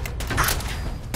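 A gun fires in Fallout 4 with a short, heavy burst of shots that sits in a thick, rumbling noise bed, with no speech over it.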